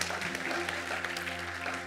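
A church congregation applauding, a steady wash of clapping at moderate level throughout, with a faint hum underneath.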